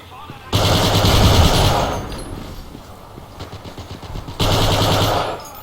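Submachine gun fire in the WWII shooter Forgotten Hope 2 on the Dukla Pass map: two loud, close bursts of rapid automatic shots separated by a brief lull.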